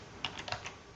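Quick typing on a computer keyboard, about five light, crisp key taps in just over a second, faint and close with no talking.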